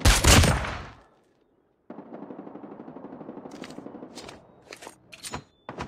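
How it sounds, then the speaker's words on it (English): Sentry gun in Call of Duty Mobile opening fire after a loud opening blast, a steady rapid burst of automatic fire followed by scattered sharper shots and impacts, with no talking. "Sentry gun deployed."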